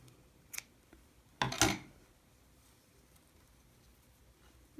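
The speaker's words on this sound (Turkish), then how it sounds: "Burada ipimi kesiyorum." Scissors snip through knitting yarn while a baby cardigan is being knitted: a faint click, then one louder, short cutting sound, set against a quiet background with no one talking.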